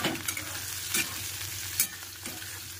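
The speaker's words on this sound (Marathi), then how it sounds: "त्यामध्ये मच्छीचे अंडे टाकूया आता आपण, छानपैकी असं मिक्स करून घेऊया।" Fish roe stirred into frying onion and tomato in a pan, a soft continuous sizzle broken by a few distinct spatula scrapes.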